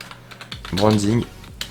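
Typing on a computer keyboard makes sharp, close clicks scattered over a couple of seconds, broken by a brief voice sound in the middle.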